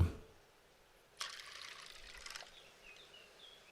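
A short burst of water poured over chickpeas, broad and hissy splashing, lasting about a second before fading into quiet, faint background.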